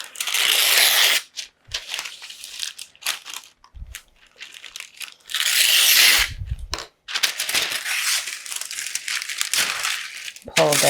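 Crisp crinkling and scraping of parchment paper being cut with a knife along the edge of a baking tray in several bursts, with pauses between, close up and fairly loud.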